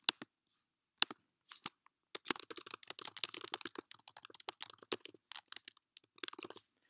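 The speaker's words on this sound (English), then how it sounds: "So just to show you that, I'll type a sentence." Typing a sentence on a computer keyboard, close crisp key clicks, a few isolated taps at first, then a quick continuous run of keystrokes in an otherwise silent room.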